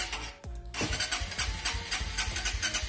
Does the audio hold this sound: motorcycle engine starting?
yes